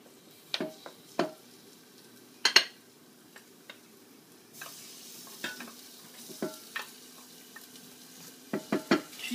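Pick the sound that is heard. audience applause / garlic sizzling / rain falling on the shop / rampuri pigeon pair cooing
garlic sizzling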